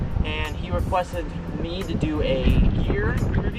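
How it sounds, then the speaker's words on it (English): Steady wind rumble buffets the microphone outdoors while snook fishing, running continuously beneath someone talking close by. "Sorry about the wind, it's a little windy"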